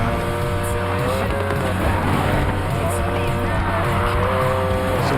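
Car racing in the Need for Speed Payback video game, a loud steady engine roar with shifting pitch and continuous tire squeal as it corners.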